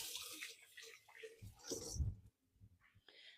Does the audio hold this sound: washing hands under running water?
yes